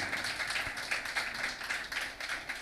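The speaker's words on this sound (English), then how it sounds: "Please let's give him a round of applause" A seminar audience applauds a lawyer and coach taking the stage, steady dense clapping from many hands filling the room without a break, no voices on top.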